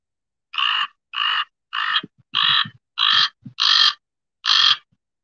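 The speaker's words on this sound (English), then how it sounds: "And I'm going to play the raven sound." A raven's recorded call: seven evenly spaced gurgling croaks, each a short throaty burst with a rough, layered tone, heard close and loud with brief silences between them and no talk.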